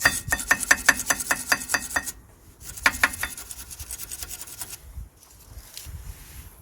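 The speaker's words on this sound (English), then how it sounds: "So next thing I'm gonna do is gonna clean the area with the wire brush" A wire brush scrubbing the rear brake area of a Toyota Verso after the pads are removed. Rapid rhythmic rasping strokes come in two close bursts, followed by softer, slower scraping.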